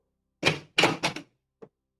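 A door opens with a short series of close, clear knocks and thumps, followed by a faint final tap, and no voices.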